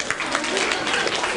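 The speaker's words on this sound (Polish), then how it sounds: "Wielkie brawa dla naszego zespołu." Brief applause for a team at a student business presentation in Wrocław, a dense burst of clapping heard briefly and alone.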